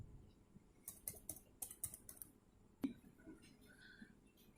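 Quick bursts of typing on a computer keyboard while entering a student's name into a quiz form, with clustered clicks early on and a single sharper tap near the end, fairly quiet and alone.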